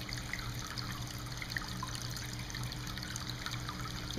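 Water trickles continuously in a small hand-sculpted indoor tabletop fountain with an Asian theme, a soft, steady dribble and light splashing against a faint low hum, quiet and close.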